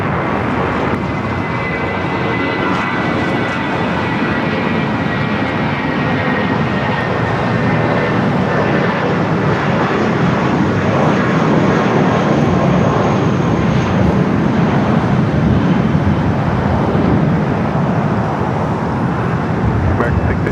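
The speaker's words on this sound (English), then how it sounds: "clear for takeoff." A fixed-wing airliner takes off at Los Angeles LAX, its engines roaring loud and steady throughout with a broad rumble, while faint road traffic sits underneath.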